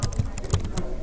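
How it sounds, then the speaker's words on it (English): Quick keystrokes on a computer keyboard tap close by in a brief, irregular burst of about half a dozen clicks, with no talk. "So then there's typing in R."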